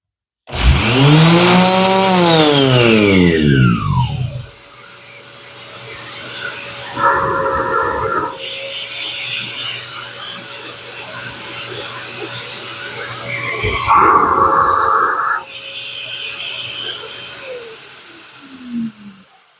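A loud dust extractor starts with a rising whine, then runs with a steady roar broken by two short bursts of pulsing noise, all close up.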